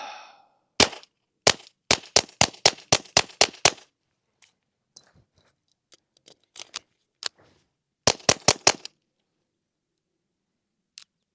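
A Ruger Mark IV pistol firing Thunderbolt rounds fires a rapid string of about ten loud, sharp cracks, then a pause with scattered faint clicks, followed by another quick burst of five shots.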